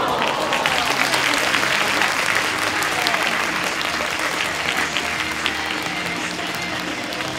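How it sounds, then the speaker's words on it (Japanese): Loud, sustained applause from a large audience at a film premiere stage greeting for Digimon Adventure tri. Chapter 1, steady dense clapping filling the hall throughout as guests leave the stage. "大きな拍手でお送りください。"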